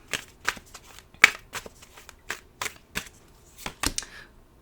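Tarot cards are shuffled and drawn in a series of crisp, separate slaps and flicks, roughly a dozen sharp bursts at an uneven pace, close and unaccompanied by speech.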